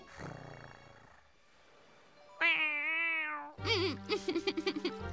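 A pet cat belonging to the Team Rocket boss in a Pokémon cartoon gives a long, drawn-out meow followed by a series of rapid, rhythmic yowls, loud and close after a quieter opening.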